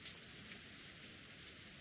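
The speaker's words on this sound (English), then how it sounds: "noticed the sound of raindrops beating on the window" Rain beating on a window in the game Umineko: When They Cry, a faint, steady patter of drops with a soft hissing wash, brief and continuous without voices.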